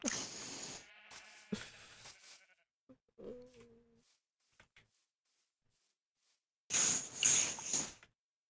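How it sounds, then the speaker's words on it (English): Sheep bleat in a video game as pens are filled with them, several short bleats at moderate volume separated by quiet gaps, with a louder burst of noise near the end. "I'm filling a little thing with sheep."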